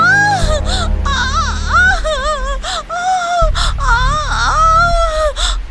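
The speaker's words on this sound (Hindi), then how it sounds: "दर्द भरी चीखें और रोने की आवाज" A woman in a Hindi horror story screams in pain and cries, with long wavering wails, gasps and sobbing moans one after another. The voice is loud and close, and a low steady drone runs beneath it.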